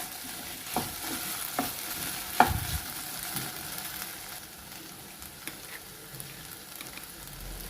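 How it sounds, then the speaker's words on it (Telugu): Potato pieces fry in a pan over a medium flame for an Indian curry, giving a soft, steady sizzle with occasional scraping stirs and small clinks, close and fairly quiet. "మీడియం ఫ్లేమ్లో 1/2 నిమిషం పాటు ఈ ఆలు ముక్కల్ని వేయించుకోవాలి"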